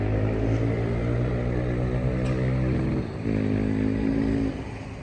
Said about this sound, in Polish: Głośno od tych motorów niestety.